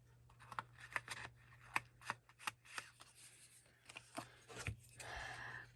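Scissors snip through an index card in a quick series of short, crisp cuts, close and fairly quiet, with small paper rustles between them.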